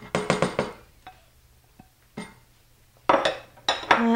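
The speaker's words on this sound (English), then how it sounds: "Just gonna add the pumpkin in now." Pumpkin pieces tumble into a metal soup pot on a home stove, a few sharp clattering knocks in quick bursts separated by quiet gaps, close by with no talking.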